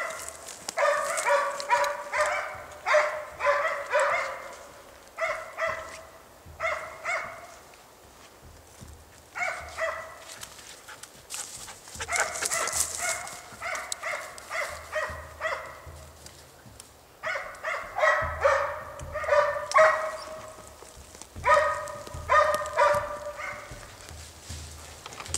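Hunting dogs barking on a hunt where a bear was seen, with repeated bursts of loud, close barking and yipping in several clusters separated by short pauses.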